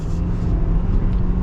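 A 2020 Ford F-350 Lariat Tremor pickup with a diesel engine accelerates under load, giving a loud, steady low rumble and drone close by with no talk over it.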